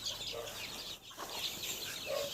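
Bantam chickens in a village yard cluck in a few short, quiet bursts against a faint outdoor background, with a brief lull near the middle.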